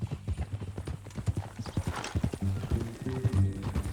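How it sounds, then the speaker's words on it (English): Horse hooves clip-clop steadily on a dirt track at a ranch in Red Dead Redemption 2, close and rhythmic, with a soft neigh and low voices or ambience under the hoofbeats. "That a new horse?"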